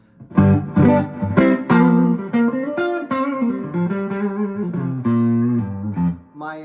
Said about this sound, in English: If you listen close, you can hear a little bit of hum